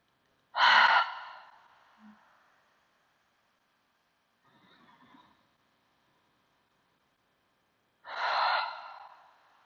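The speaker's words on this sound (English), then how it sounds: "inhale through your nose and exhale" Slow breaths drawn in through the nose and let out again during a guided spinal articulation movement session: two loud, airy breaths, one at the start and one near the end, with a faint soft breath between and quiet pauses.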